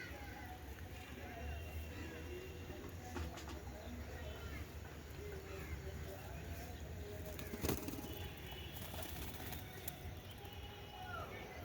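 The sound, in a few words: pigeons drinking medicated water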